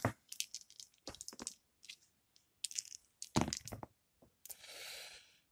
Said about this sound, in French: il lance à 4 dés